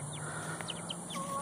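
Rescued young chickens in an enclosure make soft, quiet chirps and clucks, a few scattered calls over a low background hum.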